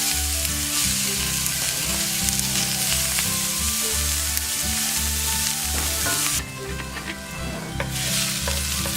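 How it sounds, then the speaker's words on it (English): Chopped onions fry in a pan, a loud, steady, close sizzle with stirring scrapes that carries on throughout, briefly dipping near the end, with no talk. "First thing we're gonna do is fry up our onions for a few minutes."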